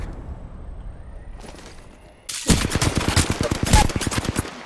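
Rapid automatic gunfire in Apex Legends on PS4 starts abruptly after a quiet stretch and keeps up a dense, loud rattle of shots for the rest of the moment.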